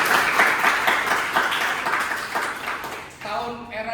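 Audience applause in a lecture hall at a business institute teaching session, a dense wash of many hands clapping for about three seconds before stopping, with a voice resuming afterward.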